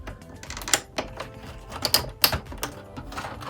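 A plastic bottom cover is pried off a PlayStation 4 console, giving a series of sharp, close plastic clicks and snaps with irregular spacing.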